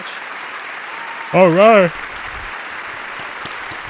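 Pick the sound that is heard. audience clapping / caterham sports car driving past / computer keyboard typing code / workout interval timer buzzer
audience clapping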